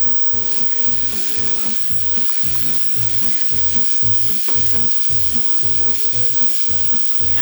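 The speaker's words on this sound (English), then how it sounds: "I'm going to put in 1 cup of finely diced onion" Finely diced onion sizzles loudly in rendered bacon fat, a dense, steady hiss close by. A rhythmic low thumping pattern runs underneath, likely background music.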